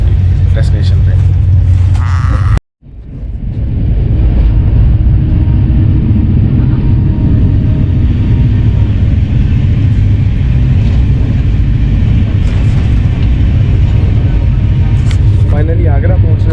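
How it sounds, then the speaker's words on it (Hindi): Inside the Executive class coach of the 12002 Bhopal Shatabdi Express running non-stop at about 145–150 km/h, a loud, continuous low rumble and roar with rattling. After a brief cut near the start, it builds back to a steady drone. "150 से 145 के बीच में ट्रेन लगातार चल रही है अभी नॉन स्टॉप।"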